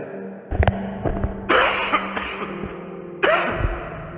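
Several sharp coughs in quick bursts, close and fairly loud, separated by short quiet pauses.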